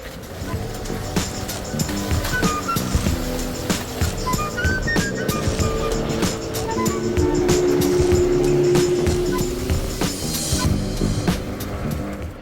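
A small boat's engine drones steadily over splashing water in Indonesia, with a rising whine partway through and constant low rumble throughout.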